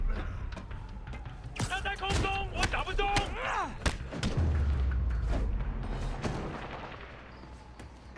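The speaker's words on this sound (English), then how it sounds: "Gunshots" Gunshots and heavy booms in the Spider-Man PS4 video game, a series of sharp loud bangs and thuds in quick bursts, mixed with in-game voices and a rumbling explosion midway.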